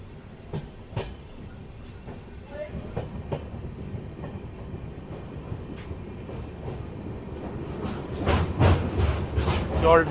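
The Kanchankanya Express, Alipurduar to Sealdah, rolls around a curve onto the single-line Jaldhaka bridge at night; wheels tick in spaced clacks that quicken and grow into a louder rumbling rattle toward the end.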